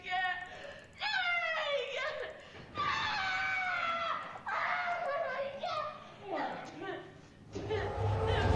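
Screams and anguished cries from a horror video game set in an asylum, a series of shrill, wavering voiced outbursts at moderate loudness, with a low rumble rising at the end.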